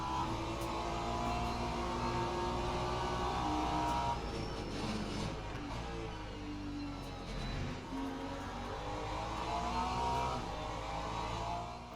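Several race car engines roar and drone together in Le Mans Ultimate during a wet endurance race, a steady close engine note with shifting pitch as the cars brake and accelerate, no talking.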